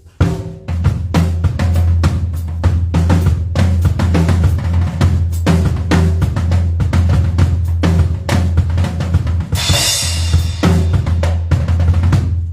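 Drum toms play a steady beat over a sustained low bass note, with a brief noisy cymbal-like wash near the end; no voices.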